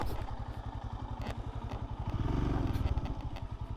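A scrambler motorcycle ridden over rough ground and across drains, its engine thumping in a steady rapid pulse that swells briefly louder, with some clatter from the bumpy terrain.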